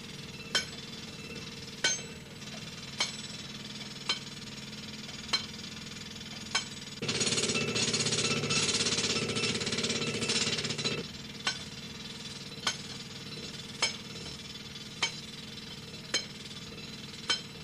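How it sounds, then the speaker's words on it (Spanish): A pneumatic drill in a mine hammers in sharp, evenly spaced knocks, breaking into a loud continuous rattling burst midway before the knocks resume. "Estos perforistas que vemos aquí, con el taladro neumático"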